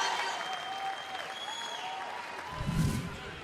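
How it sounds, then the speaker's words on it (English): A large arena crowd at the Commonwealth Games in Coventry applauds and cheers for a champion, a steady wash of clapping with a louder swell of cheering near the end. "the crowds in Coventry giving a monumental cheer to Daniel Powell"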